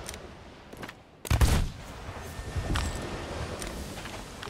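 Cannon fire from a ship in the Sea of Thieves video game, a heavy booming blast midway through followed by scattered further bangs and rumbling battle noise, with no talk.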